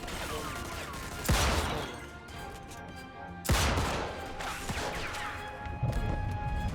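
Two loud, sharp Magnum revolver shots in the video game Mafia 2, spaced about two seconds apart, each followed by ringing echo and clattering debris, with busy background noise between them.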